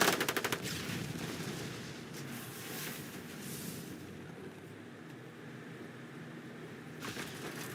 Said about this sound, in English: Infantry is firing.